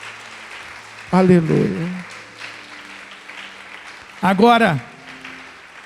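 A church congregation claps in praise during a sermon. A soft wash of applause runs underneath while the preacher calls out twice, loud and close.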